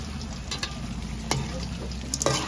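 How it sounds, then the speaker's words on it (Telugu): Brinjal pieces with about two tablespoons of chilli powder fry in oil in a pan, a soft steady sizzle broken by a few sharp stirring scrapes, close by with no voice. "కారం కూడా మనకు నూనెలో బాగా వేగిపోయింది"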